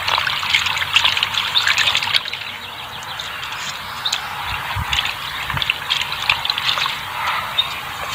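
Water mixed with a growth stimulant is poured onto a plant, making a steady close trickle and splash with faint birdsong in the background.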